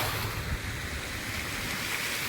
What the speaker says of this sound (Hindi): देखो पूरी लहर बन के आ रही है।